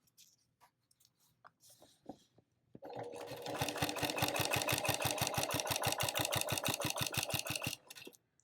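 A sewing machine stitches across a quilt in a fast, steady run of evenly spaced needle strokes lasting about five seconds, loud and close. It starts abruptly after some quiet handling noises and stops near the end.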